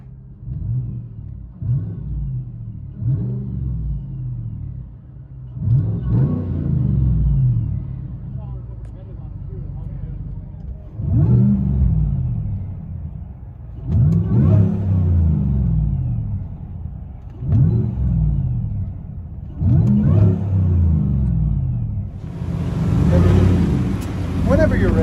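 Supercharged GMC Sierra 6.2L V8 on straight pipes, heard from inside the cab as a deep rumbling exhaust that swells in repeated revs every few seconds, with people talking over it.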